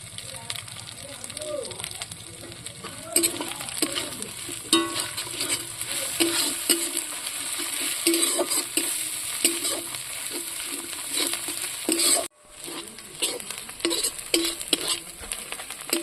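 Spices with red chilli powder and turmeric frying in oil in a pot for a chicken dish, a steady sizzle with repeated stirring scrapes and spoon taps, a brief break near the end, with a voice speaking over it.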